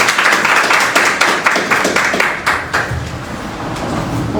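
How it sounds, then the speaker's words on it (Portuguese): Church congregation claps in praise, a dense, steady rhythm of many hands beating roughly twice per second, loud and close, gradually thinning toward the end. "as palmas do louvor"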